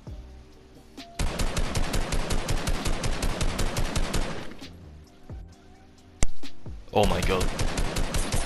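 Fortnite gunfire from the drum gun, long bursts of rapid automatic shots close and loud, a pause, then another burst, with a voice briefly exclaiming between them.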